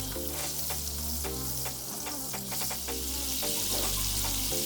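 Butter heating in a pan over medium heat gives a close, steady sizzle and hiss throughout, with a faint low hum underneath and no talking.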